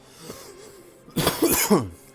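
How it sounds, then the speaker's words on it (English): A single harsh cough bursts out after a soft breath, close and fairly loud, with a brief throaty rasp at its end. "The cough is still here, unfortunately, but it's getting better."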